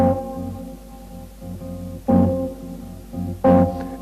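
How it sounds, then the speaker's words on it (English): Guitar sounding a major 7 flat 5 chord in a jazz lesson setting, heard as soft sustained chord tones with a few plucked attacks, close and clean, with no talking. "you'll have a major 7 flat 5, which sounds like this."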